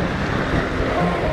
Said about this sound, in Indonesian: ternyata anginnya kencang banget bos